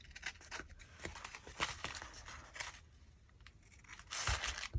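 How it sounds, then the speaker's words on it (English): Trimming excess paper off the edges of a vintage journal page, heard as a close run of dry rasping cuts and tearing rustles, with a louder crisp burst near the end and no voices. "Let's just quickly trim off the excess."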